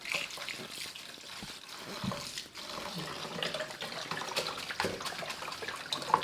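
Fenugreek leaves are washed under a running kitchen tap, a steady close splashing gush of water with small irregular spatters, with no voice.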